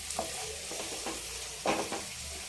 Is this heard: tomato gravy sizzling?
yes